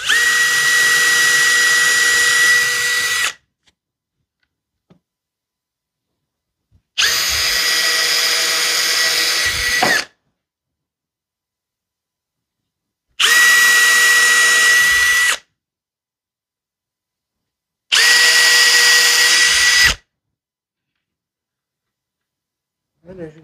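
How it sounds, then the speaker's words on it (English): A power drill drives screws in four separate bursts, each a loud, high, steady whine lasting two to three seconds, separated by silent pauses. "So now we'll just take our drill."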